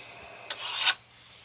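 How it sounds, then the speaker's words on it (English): A scribe drawn across a steel plate to mark a circle, one short scratchy rasping stroke of about half a second, close and fairly quiet. "And then you scribe your circle."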